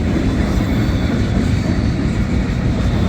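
CSX freight train cars roll past at close range in Ijamsville, Maryland, a loud, steady rumble with a clickety-clack of wheels on rail joints and no voices.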